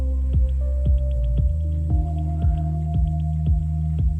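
Mellow lo-fi house demo from an Ableton Live session, a steady four-on-the-floor kick thumping about twice a second under soft sustained chords and light ticking hi-hats, loud and clear with no voices.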